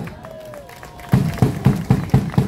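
Audience applause for a small vocal ensemble at a Korean rally calling for an election-fraud investigation, arriving as a few loud, rhythmic bursts of clapping after a quieter stretch with a faint voice.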